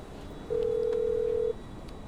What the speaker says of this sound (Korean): 자, 프랭클린한테 전화를 좀 하죠.